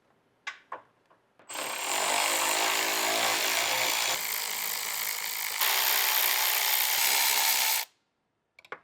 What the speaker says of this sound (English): So let's go ahead and take out those 4 bolts.